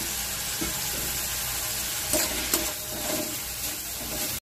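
Spices and finely chopped ingredients for a prawn curry fry in oil and are stirred, making a steady close sizzle with occasional scraping strokes of the spoon and no speech.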